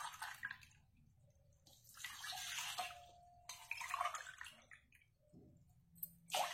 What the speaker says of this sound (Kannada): ಈಗ ನೋಡಿ, ಈ ಲೋಟದಲ್ಲಿ 2 ಲೋಟ ನೀರು ಹಾಕ್ತೇನೆ.